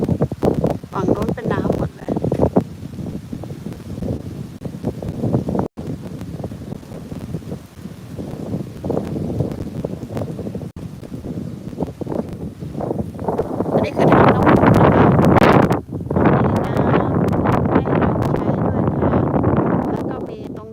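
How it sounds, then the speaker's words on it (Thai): Strong wind at a waterside park in Mudgee buffets the microphone in steady loud gusts, building to a heavier roar toward the end, with someone talking over it throughout. "ลมอาจจะแรงเนาะ เพราะว่ามันอยู่ชายน้ำลมแรงมากค่ะ"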